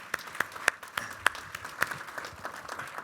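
Scattered applause from an audience at a leadership breakfast, individual claps popping out irregularly over a softer patter, moderate and fairly sparse throughout.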